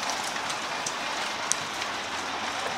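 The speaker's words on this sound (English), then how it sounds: "we can always, you know, go and listen to the rain." Steady rain falls in a dense, even hiss with scattered louder drops, heard alone and continuous.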